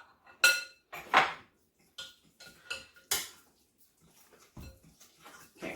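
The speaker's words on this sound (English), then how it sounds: "we're just mixing that up to incorporate the peanut butter and the banana" Peanut butter and banana being stirred together in a bowl for chocolate protein bars, a series of separate clinks and scrapes of utensil against dish with quiet pauses in between.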